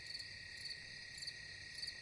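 Crickets chirp steadily at night, a high continuous trilling with faint pulsing, soft and outdoors, with no voices over it.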